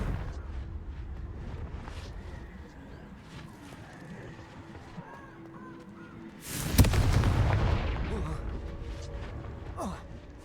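The Confringo blasting spell from Hogwarts Legacy goes off mid-game with a sudden loud booming explosion that rumbles and decays for a few seconds over quieter game ambience and a voice.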